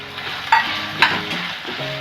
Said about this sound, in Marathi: हे बघा आता मी फ्लावर टाकते